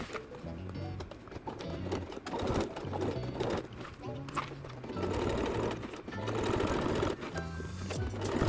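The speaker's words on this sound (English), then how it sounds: "my Singer sewing machine was a very strong machine to be able to get through this leather" A Singer sewing machine stitches through a leather bag, its rapid rhythmic needle clatter running steadily in short pulsing bursts close to the microphone.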